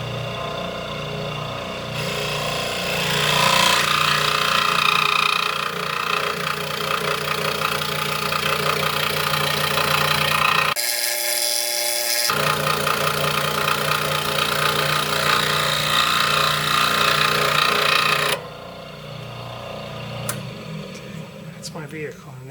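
A maglev scroll saw cuts through wood with a steady, loud motor-driven buzz that runs almost continuously, breaking off briefly in the middle and dropping away near the end.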